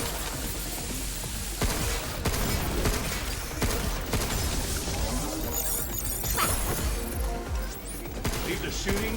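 Gunfire from the futuristic shooter game Pragmata, dense and continuous with sharp crashing impacts and mechanical clatter layered in a loud, busy game mix for the whole stretch.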